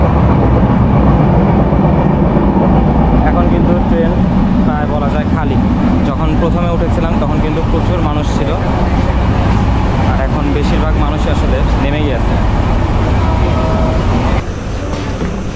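A moving passenger train on the Dhaka to Panchagarh line fills the carriage interior with a continuous loud rumble and rattling clatter throughout, with voices faintly audible beneath.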